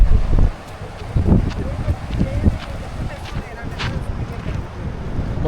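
Strong wind buffets the microphone on an exposed hilltop at the Sri Bheema Lingeshwara Swamy temple, gusting in loud low rumbles, strongest at the start and around one second, then settling into a steady roar.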